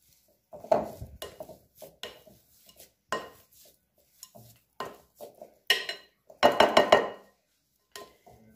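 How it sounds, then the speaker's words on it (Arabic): Potatoes being mashed with a masher in a pot, heard as repeated knocks and clinks of metal against the pot in irregular bursts, close and fairly loud, with no talking. "غادي ندوز نمعس البطاطا اخرى"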